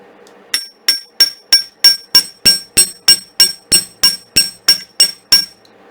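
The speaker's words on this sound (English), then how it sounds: "I'm just gonna hammer this little bit right here" Wire on a steel bench block struck by a hammer, shaping a small curve for wire-wrapped earrings, a loud, even series of about fifteen sharp metallic taps with a bright ring, close and alone.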